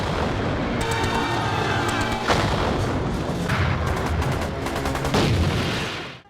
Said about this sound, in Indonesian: Suara tembakan terus terdengar